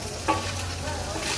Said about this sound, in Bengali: মাছ ভাজা হচ্ছে একদম গরম গরম।